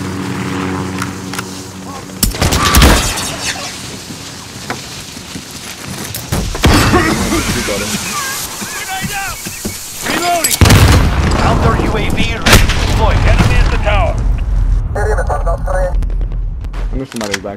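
Gunfire and booming blasts in a Call of Duty: Modern Warfare (2019) multiplayer match, loud bursts scattered across the stretch with aircraft-like rumble beneath and voices talking over the action.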